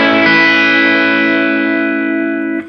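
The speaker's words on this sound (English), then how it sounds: "Here's the overdrive, the first overdrive, which is right after the compressor here, the MXR Timmy." An electric guitar played through an MXR Timmy overdrive pedal, placed after a compressor, rings out a single loud sustained chord that decays slowly before being muted at the end.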